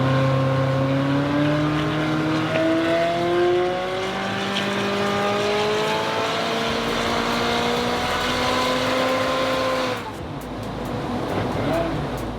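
A McLaren 540C engine runs on a dyno, its loud, steady note climbing in pitch through long rev sweeps before dropping briefly near the end.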